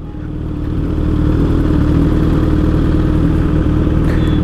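Several superbikes ride together in a loud, continuous, rumbling engine roar that builds slightly at the start and then holds steady.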